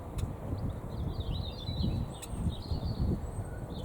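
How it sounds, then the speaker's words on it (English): Faint bird chirps and song drift in from a distance over a low outdoor rumble of wind and background noise in a kitchen garden. "It's so lovely to hear the birds."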